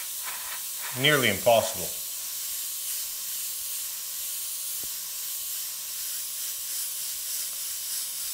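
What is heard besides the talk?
airbrush spraying paint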